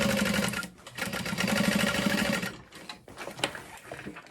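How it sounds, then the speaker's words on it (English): A sewing machine stitches a curved seam on a small travel bag, then back stitches it, with a loud rapid whir that stops and gives way to a few short bursts and clicks, close up and with no voices. "Back stitching where necessary."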